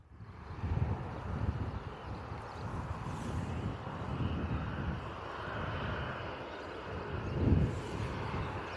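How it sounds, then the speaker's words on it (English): A C-17 military aircraft passes far overhead at altitude, producing a faint, broad rumbling engine roar that swells gently and rolls on steadily with slight wind noise. "We have a C-17 flying over."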